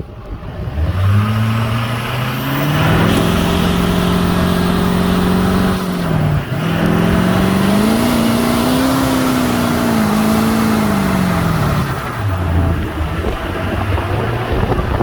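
A supercharged truck engine revs high during a burnout with the brake held, holding a steady roar for many seconds, dipping briefly before climbing again, with wind-like noise throughout.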